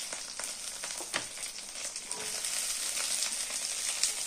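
Chilli paneer frying in a pan: a steady, bright sizzle with scattered scraping knocks as the pieces are stirred, fairly close and continuous.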